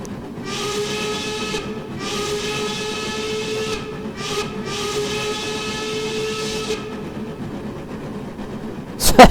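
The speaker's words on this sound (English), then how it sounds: "Such a good sounding whistle." A steam whistle from the 4-4-0 Empire State Express locomotive in Train Simulator Classic gives three long, loud harmonic blasts, with a short toot between the second and third, over a steady hiss of steam and rolling train noise.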